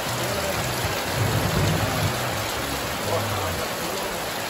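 Steady rain falls outdoors in a continuous hiss, with faint low rumbles and muffled voices underneath.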